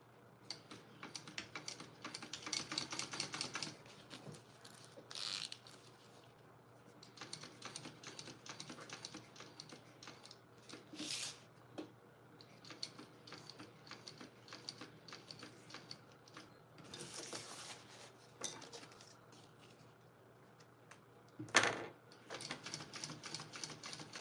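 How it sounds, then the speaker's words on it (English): A sewing machine stitches a small tag onto a handmade wristlet, its needle running in quick, close ticking bursts separated by short pauses, with one sharper louder burst near the end. "Just gonna sew this little taggy tag on."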